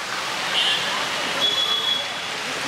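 Floodwater rushes across a road in a steady broadband hiss, close and continuous, with a person briefly talking over it.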